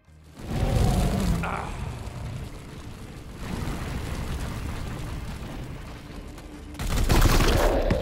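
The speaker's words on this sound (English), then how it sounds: "we're gonna open fire on them" Sustained gunfire in Warhammer 40k: Chaos Gate – Daemonhunters, a dense rumbling barrage that roars up, holds steadily for several seconds, then swells again at the end, loud and alone.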